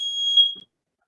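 A smoke detector fire alarm gives one loud, shrill electronic beep while radishes roast in a kitchen, then cuts off into silence.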